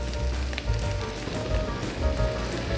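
Steady sizzling and frying as heavy cream, about 200 ml, goes into a hot pan with shrimp for a shrimp and chive cream pasta, a continuous crackle with soft low bumps.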